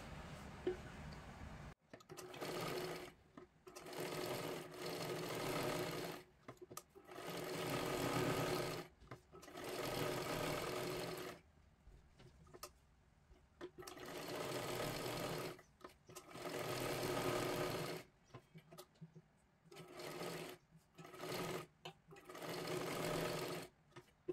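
Sewing machine stitching a blouse in long bursts of rapid, steady whirring, broken by short pauses, close and loud with no talk over it.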